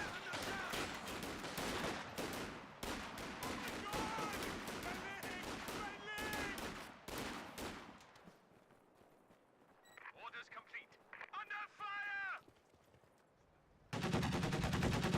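A half-track's machine gun fires bursts in a Company of Heroes 2 battle, with rapid rattling gunfire mixed with other combat noise, a quieter stretch, then a loud burst at the end, all under ongoing talk.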